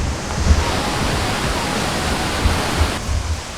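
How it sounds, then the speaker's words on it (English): A waterfall along a hiking trail pours in a steady, broadband rush of falling water, loud and close, unbroken throughout with no voices over it. "We can start to see the bottom of the waterfall here."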